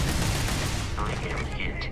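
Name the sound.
gunfire in the video game Starfield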